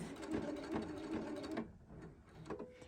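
A Husqvarna Viking sewing machine stitching a quilt binding and then tying off, a brief close mechanical whir that stops, followed by quiet clicks of the mechanism.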